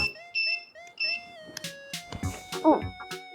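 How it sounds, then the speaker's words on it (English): A homemade earthquake alarm sounds with repeated short electronic beeping tones in bursts. Clattering knocks from shaking follow partway through, and a faint voice is heard at moments. "It keeps making noise. The alarm works really well."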